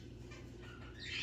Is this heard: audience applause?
no